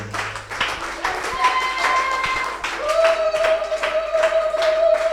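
A church congregation at a morning service applauds in acclamation to the Lord, a sustained mass of clapping with voices and sustained tones, likely singing or music, running beneath and through it.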